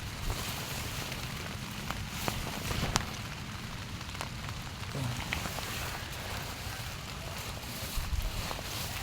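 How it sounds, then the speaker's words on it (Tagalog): Steady rain falling on a farm, a dense, even patter on surfaces with scattered louder drops, continuous and fairly soft throughout. "maulan po ngayong araw na ito"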